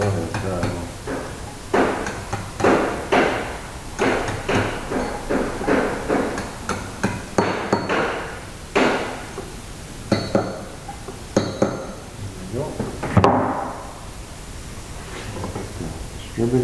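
A light hammer tapping a cam gear onto the crankshaft of a VW 1968cc engine build, repeated sharp metallic taps at an uneven rhythm with short gaps, close and clear, under quiet room noise.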